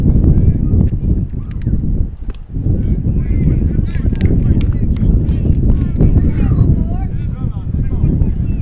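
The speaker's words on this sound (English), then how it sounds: "It's an 18-mile-an-hour constant wind with gusts up to 40 miles an hour." Strong wind, steady around 18 mph with gusts to 40 mph, buffets the microphone in a constant roar at a high school baseball game, with people talking over it.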